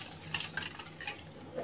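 A spoon stirs Oreo cake batter with milk in a bowl, making a few soft, brief scraping and clinking strokes at an uneven pace, fairly faint and close, with no talking.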